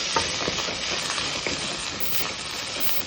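Grated coconut, green chili and curry leaves sauté in hot oil for a chickpea sundal, making a continuous close sizzle with faint scraping ticks from stirring.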